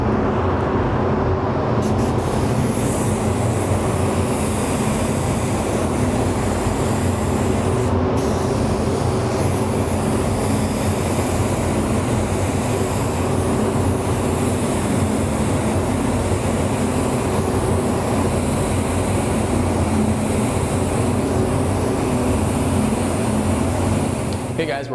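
Createx paint sprayed through an airbrush or spray gun for candied checkered weave graphics, a steady, loud, continuous hiss of airflow that runs unbroken the whole time, close by.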